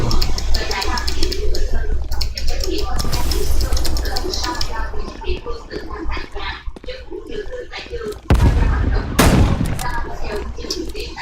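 Rapid gunfire in a video game shooter, continuous and loud, with a harsh blast near the end, while excited voices talk over the shooting.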